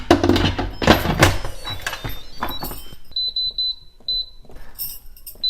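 Clattering and handling noise give way to a series of short, high electronic beeps from an electric pressure cooker being set, repeating in quick bursts nearby.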